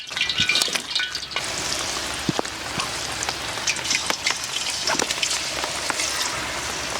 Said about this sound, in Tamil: சிக்கன் எடுத்து எண்ணெயில் போட்டு பொரிச்சு